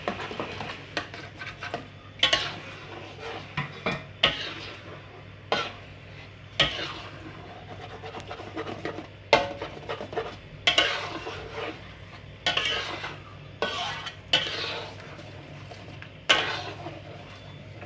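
Green mussels in Padang sauce are stirred in a pan, with a spoon or spatula scraping and clacking against the metal in irregular strokes over a soft sizzle and low background hum.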